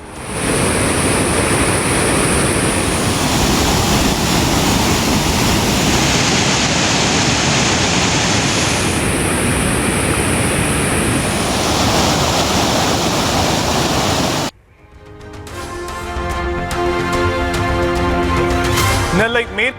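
Manimuthar waterfall in flood: a dense, loud, unbroken roar of rushing water for most of the stretch, then a brief cut to a quieter passage with layered tones and some voice.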